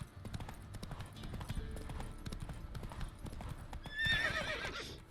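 Roach the horse galloping in The Witcher 3, a quick rhythmic clip-clop of hooves close by, ending in a loud whinny, with a voice faintly underneath.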